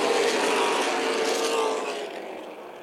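Super late model race cars roar together at the start of an ARCA/CRA race at Toledo Speedway, a dense distant engine drone that gradually fades as the pack moves away.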